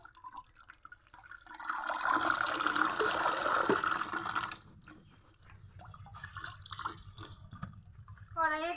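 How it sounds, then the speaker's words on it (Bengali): Tap water poured over drained pasta in a strainer makes a loud splashing gush for a couple of seconds, then settles into a softer trickle, with a voice briefly heard near the end. "এখন জল দিয়ে ধুয়ে নিব"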